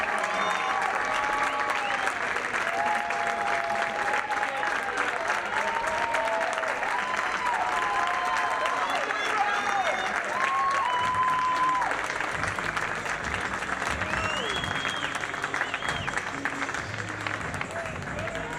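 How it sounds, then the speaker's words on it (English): A large baseball game crowd applauds and cheers steadily, a dense roar of clapping with whistles and shouts that holds strong for nearly twenty seconds before easing slightly. "he's getting his well-deserved round of applause"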